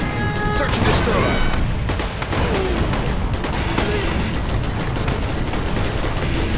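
Heavy airborne cannon fire from a Spectre gunship in the real-time strategy game C&C Generals Zero Hour, a dense continuous barrage of booms and impacts layered with battlefield noise.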